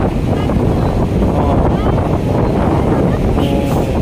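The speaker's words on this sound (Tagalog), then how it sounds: "lakas na ng hangin" Strong wind at Manila Baywalk's dolomite beach buffets the microphone in a loud, steady roar that fills the whole stretch without letting up.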